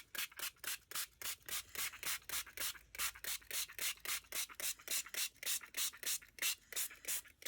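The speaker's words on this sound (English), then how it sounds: "you don't want to rub too much that you're going to take the surface off" A hand rubs the wet surface of a card sprayed with water, making a steady train of quiet, close scrubbing strokes at about three per second, with no talking.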